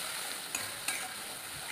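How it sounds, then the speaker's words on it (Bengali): A spice paste is stirred and fried in a pan for a papaya dish, with a steady soft sizzle and a couple of brief scraping clinks from the spoon. No one speaks. "মশলাটা দিয়ে খুব ভালো করে আমি নেড়ে চেড়ে ভেজে নিচ্ছি"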